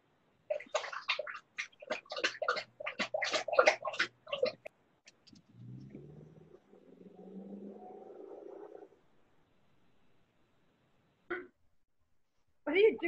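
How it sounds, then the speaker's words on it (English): A dog laps and slurps up water close by in a few seconds of wet, gulping noise that follows a stretch of people talking, with a short burst of speech again near the end. "my dog was slurping up a bunch of water"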